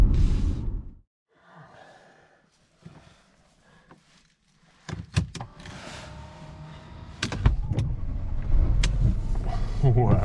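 A Mercedes S500 that has sat unused for weeks cranks and fires up, its engine rising from quiet into a steady, close idle rumble that grows louder, with clicks and a soft breath heard before the start.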